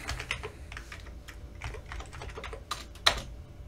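Keys clatter on an Amiga A1200 computer keyboard as a command is entered in a shell, a quick irregular run of close, light taps ending in one sharper keystroke.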